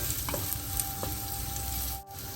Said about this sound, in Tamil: இந்த வெங்காயம் வதங்கி கொண்டு வரவே இந்த முருங்கைக்காயையும் வதங்க சேர்ப்போம்